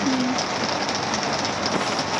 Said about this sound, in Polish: To nie pada, to po prostu jest ulewa.